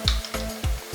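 Ginger dropped in with whole spices, dried red chillies, bay leaf, cinnamon and cloves in hot oil, giving a close, short burst of sizzling with soft rhythmic stirring scrapes in a brief second.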